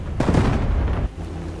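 Bombs dropped from a Halifax bomber in War Thunder detonate below with a heavy, rumbling blast that lasts under a second, then fades into a lower engine drone.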